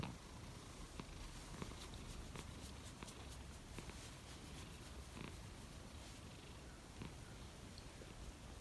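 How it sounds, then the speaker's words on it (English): A cat purrs close and low in a steady rumbling loop, with faint soft taps and shuffles around it and no talking. "Cats."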